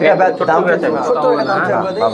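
Pigeons of fancy breeds such as racer, satin and king kept for sale, cooing close by in soft repeated throaty calls mixed with near voices talking over them.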